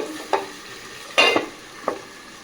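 Chicken sautéing in a pan, sharp spatula scrapes and clatters over a soft sizzle, three distinct stirring strokes up close, no talking.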